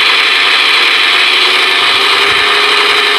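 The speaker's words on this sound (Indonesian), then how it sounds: "saat ini lokomotif ini mensimulasikan tes mesin dengan" Roco Z21 DCC-controlled model locomotive running a simulated diesel engine load test, a dense, loud, steady mechanical roar that holds constant without pause.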